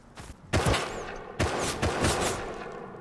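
Gunshots ring out in the video game Rust, with three or four loud, sharp cracks spaced irregularly about half a second to a second apart, each followed by a short echoing tail, and no talking over them.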